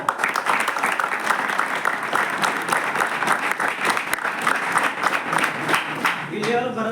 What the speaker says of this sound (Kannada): ಎಲ್ಲರಿಗೂ ಜೋರಾಗಿ ಒಂದು ಸಲ ಚಪ್ಪಾಳೆ